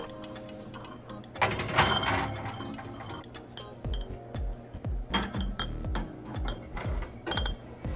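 Clean glass jars clink and rattle as they are set into an oven for drying before rice storage, a series of close, bright knocks and taps with a low metallic rack rumble, no voice over them.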